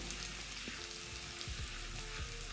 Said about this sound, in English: Once the butter is bubbling or sizzling, I'm going to add in my onions.